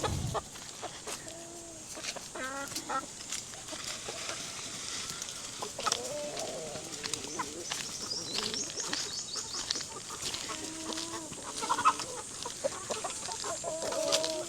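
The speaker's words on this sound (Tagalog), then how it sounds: "Itong mga free range chicken natin, mga Rhode Island Red. Tsaka meron itong Plymouth Rock." Free-range Rhode Island Red and Plymouth Rock chickens cluck in scattered bursts, with clear close calls and softer ones further off, over a faint farmyard background and no talking.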